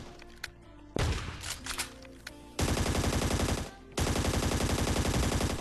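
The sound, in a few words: gunfire in a video game (Scarfall 2.0)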